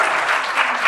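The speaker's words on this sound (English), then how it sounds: "can we please clap for our panelists, Ms. Pepita Uwineza" An audience applauds panelists at a microfinance tech summit, with close, dense and steady clapping that lasts under a second.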